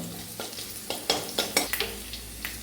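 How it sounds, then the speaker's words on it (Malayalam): Mustard seeds crackle and pop in hot oil in a pan for Kerala beef curry, sharp scattered pops over a steady low sizzle, close and moderately loud, with no talking. "കടുക് പൊട്ടുന്നു"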